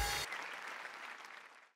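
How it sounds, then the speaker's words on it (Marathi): A studio audience at a Marathi television comedy show applauds in a short, fairly faint burst that tapers off quickly. "वा जोरदार टाळ्या"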